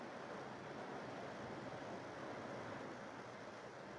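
Sea surf rolling onto the shore beside a beachfront hotel in Thailand, a faint, steady, unbroken hiss of waves with light wind, no voices.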